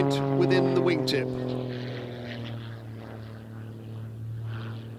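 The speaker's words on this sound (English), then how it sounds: "The aircraft tumbled, spinning about a point within the wingtip." A muscle biplane's propeller engine drones steadily at a distance during an aerobatic tumble, its pitch wavering early on before it settles into an even hum.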